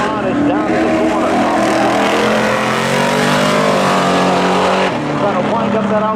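Race cars roar in a spectator drag race at Seekonk Speedway, loud engines revving and rising in pitch as they charge down toward turn one, with a commentator talking over the steady din.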